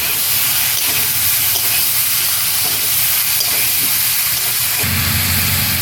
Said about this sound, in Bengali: কুচানো পেঁয়াজ দিয়ে আমি আরও একটু ভেজে নেবো